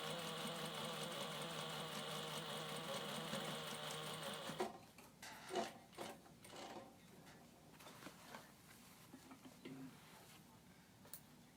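A sewing machine runs steadily for several seconds, top stitching a seam on a clutch bag, a fast even mechanical whirr close up, then stops, followed by soft handling clicks and rustles of fabric.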